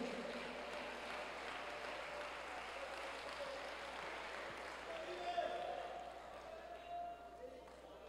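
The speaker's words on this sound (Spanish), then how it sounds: "Dele palmas a Dios, dele gloria a Dios." Church congregation clapping for God during a Spanish-language sermon, a steady dense wash of applause throughout, with voices and a preacher's talk over it.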